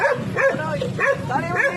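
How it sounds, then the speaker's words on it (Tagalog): A dog barks and yips repeatedly near a boat-building yard, about four close, sharp barks in quick succession with a whimpering edge. "May aso po kumakahol."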